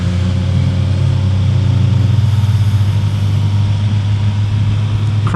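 Suzuki Hayabusa sport bike engine under way, a loud, steady low mechanical drone with continuous road and wind roar, the pitch holding fairly constant throughout without talk.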